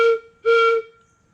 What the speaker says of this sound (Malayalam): ആദ്യം ഞാൻ വലിയ വിസിലാണ് എടുക്കുന്നത്. ഇതൊന്ന് ഊതി നോക്കട്ടെ.